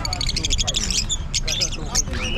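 Pet parakeets and budgies in a home bird collection in Pasig squawk and chirp in quick, shrill bursts, fairly close, with a voice talking underneath.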